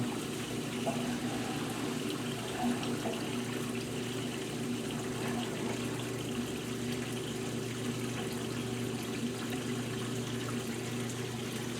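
A washing machine spin-drying while its pump pushes water out, a steady low hum under a constant watery rush, fairly faint and unchanging.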